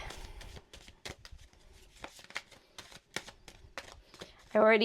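A deck of tarot cards is shuffled by hand, giving quick riffling flutters and soft slaps in irregular bursts close to the microphone, with a person talking over them.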